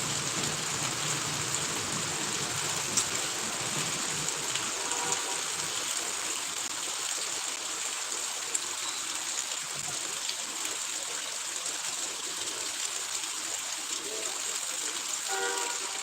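Heavy rain pours and gushes from pipes in a steady, loud, unbroken rush of water that fills the whole stretch.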